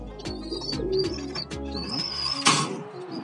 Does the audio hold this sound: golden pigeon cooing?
yes